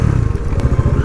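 Bajaj Dominar motorcycles idle at a highway fuel stop in Uttarakhand, giving a close, steady, throbbing engine rumble with light mechanical clatter and no talk.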